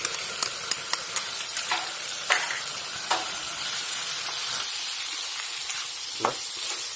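Shrimp stir-fried with bamboo shoots, oyster sauce and light soy sauce in a pan, a loud steady sizzle punctuated by sharp metallic spatula taps and scrapes, close and without talk.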